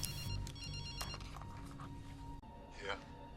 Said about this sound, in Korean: 비숍은 해리에게 전화를 겁니다.